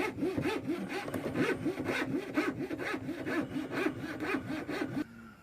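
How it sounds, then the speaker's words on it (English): A coping saw cuts through wood on a kitchen lower cabinet in a steady back-and-forth rhythm of about ten rasping strokes, close and clear, stopping abruptly near the end. "Take your time, let the saw do the cutting, otherwise it'll bind up and it won't cut."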